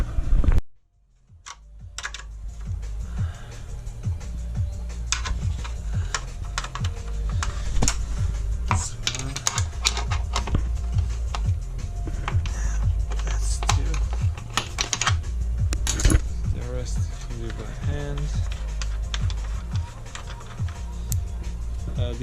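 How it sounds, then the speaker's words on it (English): A 10mm spanner working the chain guard bolts on a Suzuki GS250FW under restoration, with rapid irregular metallic ratcheting clicks and taps running continuously, close and fairly busy throughout. "in order to take out this side, you need to take out this chain guard, 10mm spanner"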